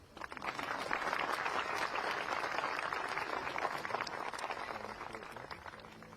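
Dense, steady applause from an audience at a university convocation ceremony in Dehradun, filling the hall evenly for several seconds with no speech on top.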